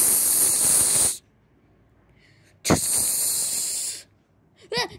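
A pressure cooker whistle releases steam in loud hissing bursts: a long blast, then a second after a pause, with a short third burst at the end.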